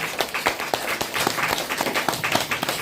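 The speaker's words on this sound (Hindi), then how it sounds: "एक बार ताली डीएक्शन के लिए" Audience applause at a motivational event in Hindi, a dense stretch of many hands clapping steadily and fairly close, with faint voices mixed in.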